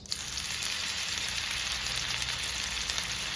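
Paste of crushed green chili, ginger and garlic sizzles in hot melted butter, a steady, loud frying hiss that holds without a break.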